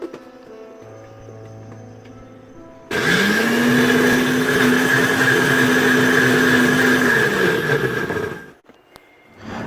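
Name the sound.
blender blending pandan leaves with water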